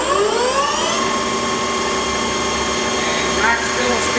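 A 2008 South Western Industries TRL1840SX engine lathe with the spindle running, a loud steady mechanical whine with tones that shift in pitch as the speed changes, heard close and alone.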